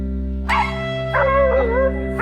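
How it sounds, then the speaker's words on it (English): Bay dogs bark and yip excitedly in short bursts at close range while chasing a wild boar near Clewiston, over a steady low droning hum. "The bay dogs are hot on the trail of the boar"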